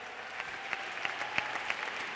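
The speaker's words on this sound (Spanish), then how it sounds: "Un fort aplaudiment, sisplau," Faint, distant applause from a gala audience greeting Miquel Calçada, a thin spread of scattered claps with a few sharper ones standing out over a quiet hall.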